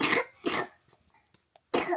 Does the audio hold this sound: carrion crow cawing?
no